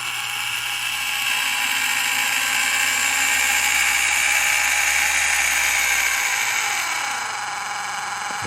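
The motor of an HO scale boxcab model electric locomotive running at slow speed with a loud, steady high-pitched whir and a buzzing mechanical rattle, close up and without voices, easing slightly toward the end.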